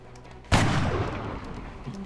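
One sharp, loud sniper shot cracks out in the video game XCOM Long War, followed by a long booming tail that rolls on for over a second.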